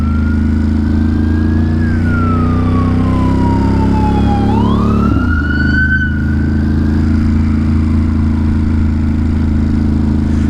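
Emergency sirens from a fire truck and ambulance on New York City streets, loud and near, wailing and sweeping in pitch over a steady traffic rumble.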